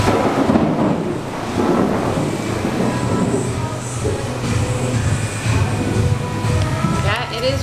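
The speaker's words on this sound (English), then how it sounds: "Yeah, it is raining." Steady outdoor rain with a continuous loud hiss and a low rumble underneath, while people talk nearby.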